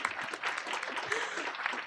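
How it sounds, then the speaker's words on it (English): Brief burst of audience applause at a public meeting on Anchorage's homelessness response, moderately faint and dense, with a speaking voice mixed in. "let's clap for that"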